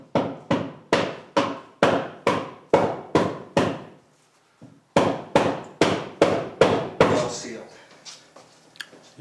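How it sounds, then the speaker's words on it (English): A hammer pounds gasketing material into place around a radon mitigation pipe, landing about fifteen sharp, evenly spaced blows close to the listener, with a short pause partway through before the pounding resumes. "we'll actually pound it in with a hammer, so it's a nice tight fit"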